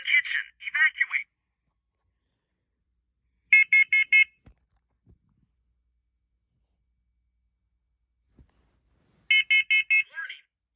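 A smoke alarm under test sounds bursts of shrill electronic beeps: a group at the start, another a few seconds later and a third near the end, with silent gaps between.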